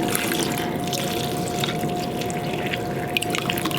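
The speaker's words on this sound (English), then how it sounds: "Fill that with some more water." Tap water pours and trickles into a fish tank filter, a continuous close splashing with faint drips and a steady hum beneath, no speech.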